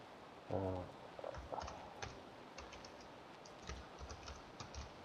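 Someone types on a computer keyboard in a quiet room, producing soft, irregular keystroke clicks in short bursts that are faint and close.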